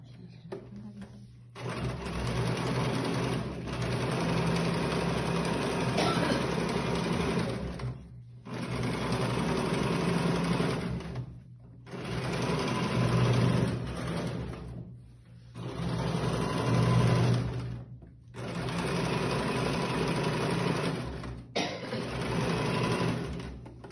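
A sewing machine stitches parallel seams on fabric for pleats and ruffles, running close and steady in six long bursts separated by short pauses.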